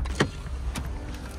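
A car drives along a road near a canal mooring, giving a steady low engine and tyre rumble with a couple of brief clunks and rattles close by.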